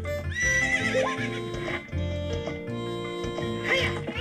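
A horse neighs in Zelda: Ocarina of Time, a bright whinny rising over game music with hoof clip-clops, repeating near the end, fairly loud and clear.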